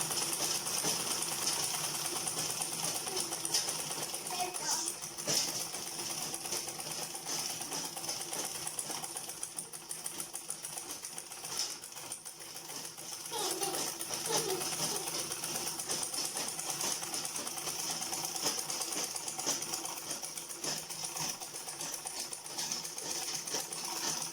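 Sewing machine stitching quilted fabric for leather slide insoles, a quiet continuous rapid rattling hum with small shifts in pace, running alone without speech.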